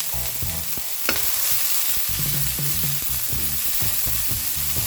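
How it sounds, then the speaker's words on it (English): Soy sauce noodles with chives stir-frying in hot oil in a Hong Kong style vegan dish, steady loud sizzling with repeated scraping and tossing strokes of a spatula against the pan, close up and with no talking. "Here's the chives, hot oil."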